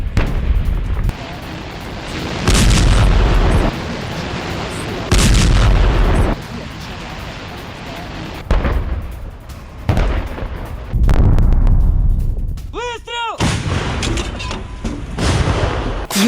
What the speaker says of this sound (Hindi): कुपियांस्क में रूस का भीषण हमला हुआ है। आर्टिलरी से यूक्रेनी ठिकानों पर अटैक किया गया।